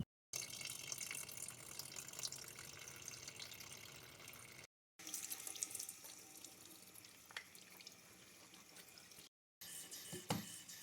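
Engine coolant draining from a 2011 Toyota Camry, a steady continuous trickle of fluid running out at close range, with a few brief gaps and some small splashes near the end.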